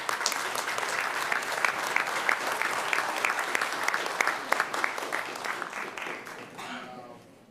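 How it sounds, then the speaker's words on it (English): Sustained audience applause in a San Diego-area city council chamber honoring the city clerk, a dense wash of clapping that holds steady for several seconds before fading out near the end. "So stand up and please give her a round of applause."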